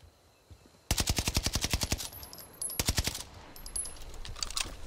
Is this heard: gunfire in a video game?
yes